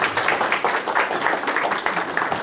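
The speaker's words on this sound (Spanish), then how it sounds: "Les pido por favor que le demos un aplauso al doctor Rodolfo" An audience applauds a speaker at a talk on digital transformation in supply chains: a short burst of dense, continuous clapping from a room full of people.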